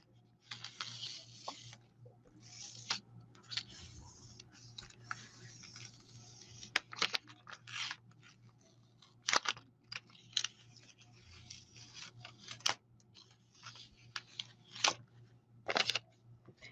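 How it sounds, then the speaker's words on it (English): Stamping mask peeled slowly off paper during a silhouette stamping craft session, heard as close, quiet crackles and sticky tearing with brief sharp snaps scattered through. "So we're going to peel off this mask."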